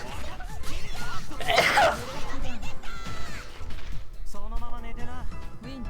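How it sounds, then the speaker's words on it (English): A man sneezes once, loudly and close to the microphone, midway through talking over a fighting-game replay. Excited talking carries on before and after the burst. "Oh, I gotta sneeze."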